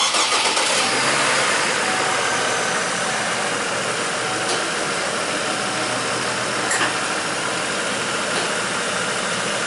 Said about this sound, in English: we're gonna fire up the truck